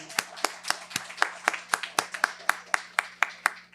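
An audience at a contract-law congress in Rio de Janeiro claps for a judge in a steady rhythmic beat of about fourteen crisp, evenly spaced claps. They sound fairly quiet and indoors, over a faint low hum.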